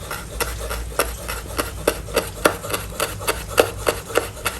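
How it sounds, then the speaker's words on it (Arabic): Thin slicing of fresh green mountain herbs with a knife on a board, producing a steady rhythm of roughly a dozen close, crisp chopping taps over a constant background hiss. "وكنبدا نقطع فيه رقيق"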